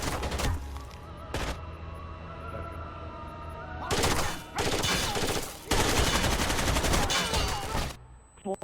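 Rapid turret gunfire from an Xbox 360 video game, loud bursts of automatic fire that cut in and out, separated by quieter stretches of game ambience and low droning tones.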